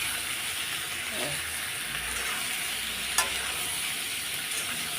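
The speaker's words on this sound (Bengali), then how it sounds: "একটু ভাজা করে নিই, ভেজে নিই একটু লাল লাল করে" Pointed gourd and potato sizzling in hot oil with salt, turmeric and chilli, a steady close frying hiss with a few stirring scrapes and one sharp clink partway through, no talking.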